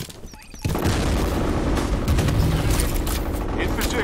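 A grenade blast goes off in the first-person shooter FEAR, a sudden loud boom followed by a heavy, rumbling roar of debris and gunfire-like noise. Voices call out before the blast.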